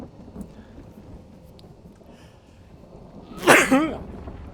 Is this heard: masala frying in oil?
no